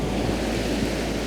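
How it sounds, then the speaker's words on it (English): Blustery wind and rain batter the outside of a camper van in the UK, a loud, unbroken roar of rushing air without pause. "windy and rainy"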